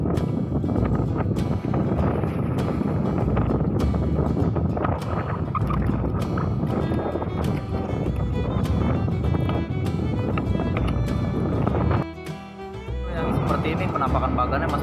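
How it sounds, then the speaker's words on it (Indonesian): Strong wind at sea buffets the microphone by a bagan fishing platform near Kohod amid high waves, a loud continuous roar with water noise and a voice partly underneath. "cuaca lagi kurang kondusif mas bro, gelombang tinggi, angin kenceng banget tuh"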